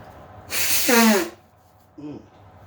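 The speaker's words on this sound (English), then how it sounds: "Blow my nose, hopefully for the last time." Someone blows their nose with one loud, breathy honk lasting under a second, then gives a short sniff or grunt. The sound is close and clear against a quiet indoor background.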